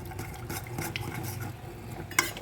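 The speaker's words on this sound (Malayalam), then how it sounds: "അപ്പോൾ കുറച്ച് നേരം കൂടി നമുക്ക് ഇളക്കി കൊടുത്തുകൊണ്ടേ ഇരിക്കാം." Melting beeswax being stirred in a pan for homemade lip balm, with soft scraping and clinking of a utensil against the pan, fairly steady over a low background hum and a sharper knock near the end.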